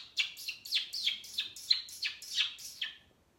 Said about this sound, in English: Are you being a sweet parakeet?